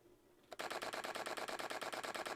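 Photo flash units powered by a Bolt battery fire in rapid succession, a fast, evenly spaced train of sharp popping clicks that starts abruptly and continues loud and steady.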